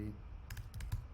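A few quick keystrokes tap on a computer keyboard, faint clicks in a short burst under a voice speaking.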